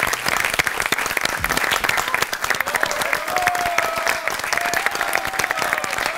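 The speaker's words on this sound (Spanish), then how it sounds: "¡Aplauso!" Dense, steady applause from a live music audience fills the whole stretch, with a sustained tone running beneath the clapping.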